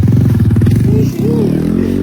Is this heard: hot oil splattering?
no